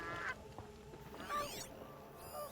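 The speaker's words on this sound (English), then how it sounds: "Am I allowed to kill these geese?" Geese in the video game Horizon Zero Dawn honk repeatedly in a nasal, overlapping chorus over a steady ambient game background, moderately loud and without talk.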